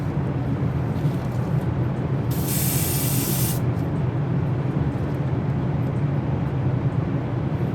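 Airbrush or spray gun releasing a short burst of paint spray, a bright steady hiss lasting about a second, standing out over a constant low hum of extraction fans in a model-ship painting setup.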